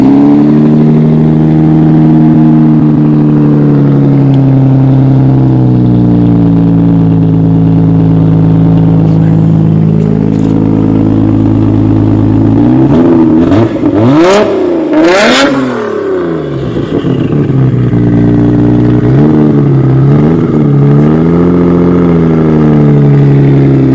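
A Nissan Skyline R33 GT-R with its RB26DETT engine idles loud and near, then blips through several sharp revs mid-way before settling back to a steady idle.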